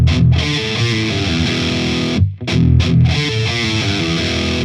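A heavily distorted electric guitar chugs through a riff, loud and dense with thick low palm-muted chords, a brief choke near the middle, then the riff resumes.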